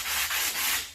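Wood is sanded by hand with 80 grit sandpaper, giving close, loud, gritty rubbing in about three quick back-and-forth strokes.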